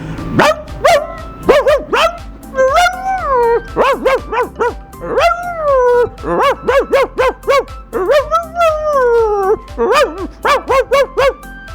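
A man, a rickshaw driver in Lahore, imitates an angry tied-up dog with his voice: loud, close bursts of barks and yips in quick clusters, some stretched into growling howls, with short pauses between.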